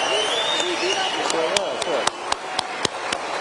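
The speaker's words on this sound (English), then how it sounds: "I would like a very, very warm round of applause to Elon Musk" Applause at a tech conference greets Elon Musk. Music and voices run underneath, and sharp, widely spaced claps come through near the end.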